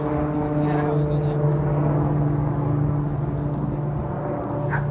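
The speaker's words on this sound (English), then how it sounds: "plane going overhead" A steady droning engine hum with low tonal whine persists throughout, like an aircraft passing overhead, moderately loud against faint outdoor background.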